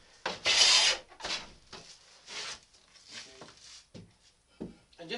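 A modern Stanley hand plane takes thin shavings from hard, tight-grained elm, giving a close, crisp rasping stroke followed by a few quieter strokes and wooden knocks and handling sounds.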